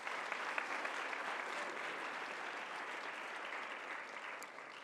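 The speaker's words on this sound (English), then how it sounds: "Please, a big applause for them as well." A crowd applauds at the opening ceremony of the IPSF World Congress 2019 in Kigali, a continuous, even roar of many hands clapping that holds steady and fades only slightly.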